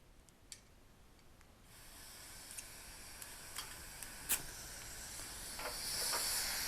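An MSR Windburner camping stove burner ignites with a few faint ticks, then settles into a steady, rising roar of hissing gas, close and alone.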